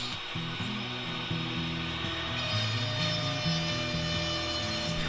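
A cutter runs steadily through wooden boards set on an Incra LS Positioner, giving a continuous droning whine with a shifting tone throughout and no talk.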